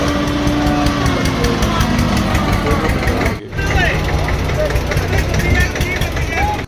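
A tractor engine runs loudly and steadily close by during maize harvesting for silage, a rough continuous rumble, with a brief dip midway before it carries on.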